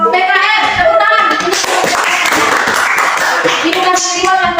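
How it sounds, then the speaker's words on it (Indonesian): A classroom group of students claps together for a student group, a steady patter of many hands, fairly loud and close, lasting several seconds. "Kita kasih rewardnya kepada kelompok PKR. Tepuk tangan."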